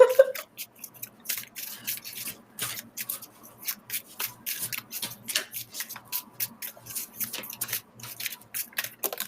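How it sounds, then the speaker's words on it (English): Playing cards shuffled close to the microphone, a string of quick rubbing, riffling bursts in an uneven rhythm, with no talking. "Casual, just shuffling ASMR noises."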